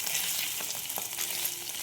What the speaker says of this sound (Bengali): পনিরগুলো জাস্ট ভেজে নিলাম।